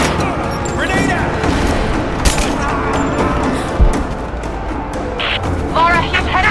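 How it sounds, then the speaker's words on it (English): Gunfire and a grenade explosion in the Rise of the Tomb Raider video game: bursts of shots and a dull boom sound under shouted voices in dense battle noise. "Suppressing fire! Grenade out!"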